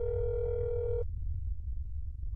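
In the horror game That's Not My Neighbor, a steady phone tone hums for about a second during a call, then cuts off, leaving a low hum and faint clicks.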